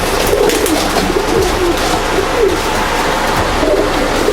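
Pigeons cooing steadily in soft, repeated low calls close by, with a busy background of other bird chatter and ambient noise throughout.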